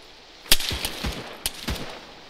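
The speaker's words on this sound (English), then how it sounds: "We're taking fire to the southeast." Gunfire in the Arma 3 video game: a handful of sharp shots crack out in quick, uneven bursts over a hissy background, moderately loud with no talking.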